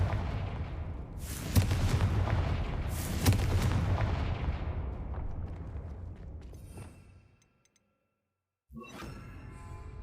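The Confringo blasting spell goes off as two sharp, booming blasts in quick succession, followed by a long rumbling decay that fades into silence before a brief burst of noise returns.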